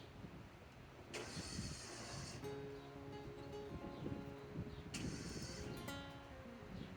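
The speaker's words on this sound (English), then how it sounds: "I thought we were going to lose that power washer, but it sounds like they just had the gas up and they're going to restart it" A gas-powered pressure washer's engine sputters and revs back to life outdoors, with two loud bursts of roaring, rattling mechanical noise over a steady background rumble, and a droning tone between them.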